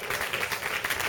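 Crowd at the Bordeaux Métropole marathon applauding the half-marathon pacers, a short burst of dense, fairly distant clapping with faint voices mixed in.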